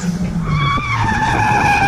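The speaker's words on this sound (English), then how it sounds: "They will start their drifting" Drift cars, a Nissan S15 followed by a Toyota Corolla with a 1.6 twin cam engine, skid through a corner at a kart-track drift event; loud, close tire squeal wails over revving engines.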